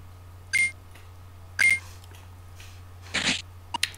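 A phone plays the game's revival effect from Pokemon Go: two bright electronic chimes about a second apart, followed by a burst of noisy sparkle and a couple of faint clicks, over a steady low hum.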